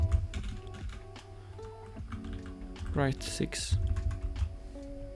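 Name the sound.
computer keyboard typing on a new keyboard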